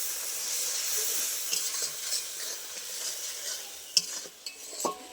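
Masala with red chilli powder stir-fried in a pan, a steady hiss of frying with spatula scrapes and a few sharp metallic clinks against the pan near the end.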